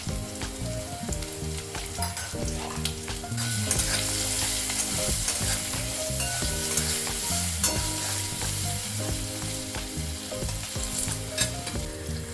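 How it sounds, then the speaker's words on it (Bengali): Potato pieces fry in oil with salt and turmeric, sizzling steadily while a spatula stirs and scrapes the pan in repeated close strokes, with no talking. "নুন হলুদ দিয়ে আলুটাকে একটু ভালো করে ভেজে নেব।"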